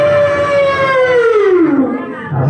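A trumpeting elephant is imitated by a storyteller's voice, which gives one loud, high, wavering call that slides downward, followed by a brief low sound at the end.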